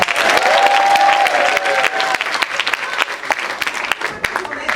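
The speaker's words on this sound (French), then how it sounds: "Donc nous allons les applaudir un par un" Audience at a children's stage festival in Dubai applauds the kids with dense, lively clapping, loud and close, while a voice speaks over it and a sustained tone sounds briefly early on.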